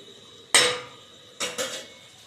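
A metal lid is set onto a pan of chicken cooking for dry chicken masala: one sharp close clank, then two quicker clatters a second later, with no talking.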